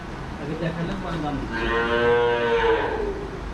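A single long, low moo rises and then fades from one of the small local cattle kept for Qurbani at an agro farm near Khorkhori bazaar in Rajshahi, heard close and loud over faint farm background.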